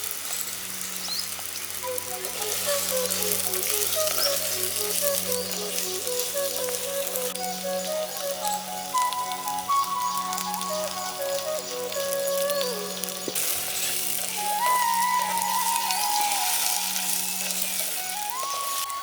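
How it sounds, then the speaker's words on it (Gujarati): Hadjod (Cissus quadrangularis) stalks with green spices sautéing in a pan, giving a constant dense crackling sizzle under a sustained tonal hum and faint melodic background sounds. "પછી હાડજોડ અને બીજો લીલો મસાલો સાંતળી લઈશું."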